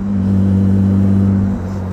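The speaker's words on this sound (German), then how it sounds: "Geiler Sechszylinder-Sound." A 1959 Jaguar SS 100 recreation's six-cylinder engine revving close by, a loud, steady deep droning hum held for over a second, then dropping slightly in pitch as the revs ease.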